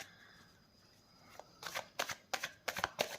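After a quiet start, tarot cards are shuffled in a rapid series of close, crisp papery riffles, with no voice over them.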